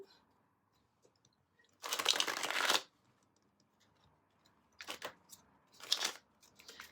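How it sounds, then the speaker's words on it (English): Tarot cards being shuffled by hand in three separate bursts: one long riffle, then two shorter quick ones, close and crisp against a quiet room. "Let's give the cards a bit of a shuffle."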